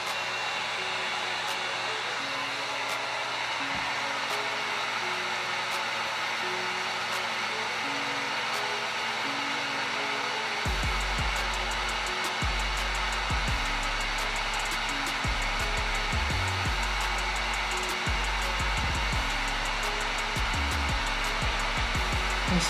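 Heat gun blowing a constant loud whooshing hiss while heating a vinyl skin on a Glock 19, joined midway by a deeper rumble and clatter as it is moved around.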